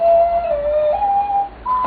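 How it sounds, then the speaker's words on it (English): Disneyland Railroad steam locomotive whistle playing a tune, a series of sustained tonal notes that step in pitch, heard from a caboose with faint background noise. "2 tunes from our magic whistle"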